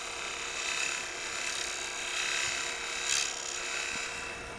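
Wood turning tool cutting and rounding a bead on a lathe at a woodturning event, a steady close scraping hiss with gentle swells as the tool sweeps across the spinning wood.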